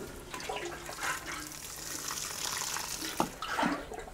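Water poured from a container onto freshly planted cauliflowers in a garden bed, a soft continuous splashing and trickling close by, with a sharper splash near the end.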